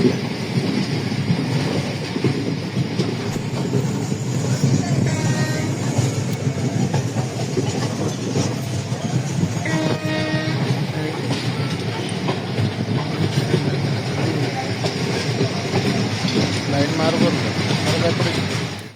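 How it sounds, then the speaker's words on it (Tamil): A train rumbles steadily along the rails in a derailment scene in Sri Lanka, with a continuous clattering roar and someone talking over it throughout. "அந்த காட்சியை பாருங்களேன், ரயில் தடம்புரோட காட்சியை."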